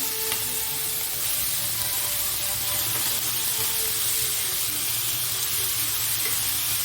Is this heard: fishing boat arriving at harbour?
no